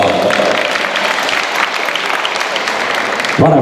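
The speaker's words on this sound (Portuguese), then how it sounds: "É isso aí, salve de palmas" Audience applause at an amateur championship trophy ceremony in Planaltina, DF: loud, dense, steady clapping from a crowd lasting throughout, with a voice starting up just at the end.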